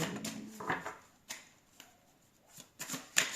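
Tarot cards are shuffled by hand in several quick riffling bursts separated by short pauses, close and crisp, with no talk.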